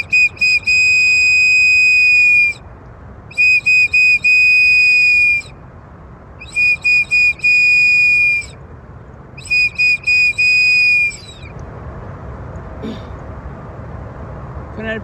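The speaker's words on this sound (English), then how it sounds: "Whistle 4 times." A shrill whistle blown in four sets of sharp repeated blasts at a worship service, loud and close, followed by quieter ambient room sound.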